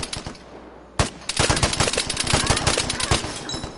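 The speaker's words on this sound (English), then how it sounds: "Oh shit, I'm getting shot at." Gunfire in the online shooter Vigor: rapid bursts of automatic shots, close and loud, with a sharp volley kicking in after a short pause and continuing as dense, uneven cracks through the rest.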